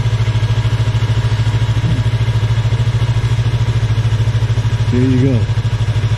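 Motorcycle engine idling and puttering at low speed while the rider creeps along slowly, a steady, rapid, loud throb with a short spoken remark near the end.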